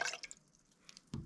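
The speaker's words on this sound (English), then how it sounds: "I'm just going to pour it straight in and we're going to look at the colour." Universal indicator is poured into an alkali solution in a school chemistry demonstration, giving a quiet, close liquid splash and a few soft drips, followed by a brief sharper splash.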